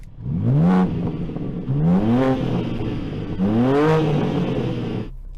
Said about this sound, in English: Rev up the new M4